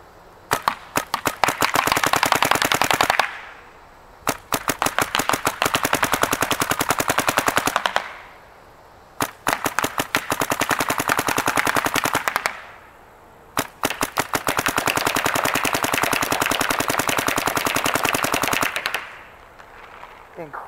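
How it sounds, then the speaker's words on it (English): A new Dye DSR paintball marker firing long rapid bursts of sharp pops, four strings of several seconds each separated by short pauses, loud and close. "you're gonna actually get to see the first shots ever put through this gun"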